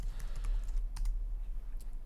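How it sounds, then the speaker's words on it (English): Light tapping of computer keyboard keys, a few scattered clicks ending in a firmer key press, faint over a low hum. "And then just hit enter, and that's going to make that change."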